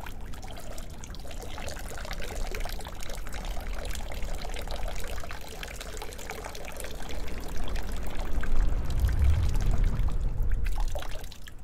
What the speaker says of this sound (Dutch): Ik moet nu echt wel pipi doen,